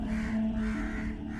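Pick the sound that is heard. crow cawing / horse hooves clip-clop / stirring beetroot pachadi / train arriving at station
crow cawing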